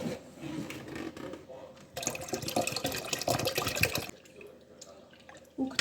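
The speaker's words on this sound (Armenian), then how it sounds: "Մի փոքր ջուրը կավելացնեմ," A little water is poured into a cooking pot in one brief splashing pour of about two seconds, framed by quieter kitchen sounds and a faint voice.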